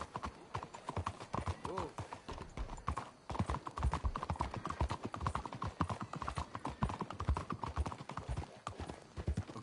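Horses' hooves clip-clopping steadily in Red Dead Redemption 2, a brisk close rhythm of hoof strikes with brief snorts, under a voice calling out once.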